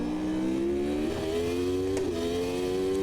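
Race car engine in the Automobilista 2 sim, a 1993 Formula 1 car at Adelaide, revving hard under throttle with a steady, slowly rising pitch, loud and continuous throughout.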